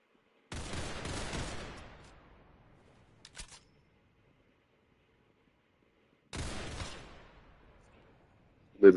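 Gunfire in a video game shooter tournament match: two loud bursts of rapid shots separated by a quiet gap, with a couple of faint single shots between them.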